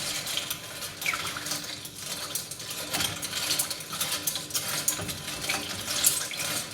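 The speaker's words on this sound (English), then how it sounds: "I'm stirring with the thermometer." A thermometer stirring melting ice: steady rattling and clinking of ice against the container, continuous and fairly close, with a wet sloshing texture and no voices.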